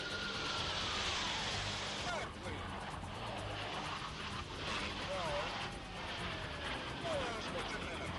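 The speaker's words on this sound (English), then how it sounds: "The next maneuver involves 2 pairs of aircraft crossing the viewing area from different directions" F-18 Blue Angels jets crossing overhead in a pair maneuver at an air show, heard as a distant, sustained jet roar with passing swells and shifting whines.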